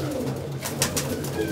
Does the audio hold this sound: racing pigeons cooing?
yes